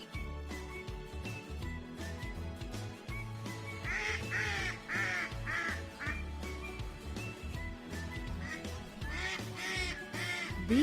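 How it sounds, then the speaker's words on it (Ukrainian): Several ducks quack in repeated bursts against a constant low rumble, with other bird calls mixed in at moderate distance. "Дикі качки."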